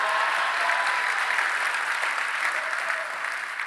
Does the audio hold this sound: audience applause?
yes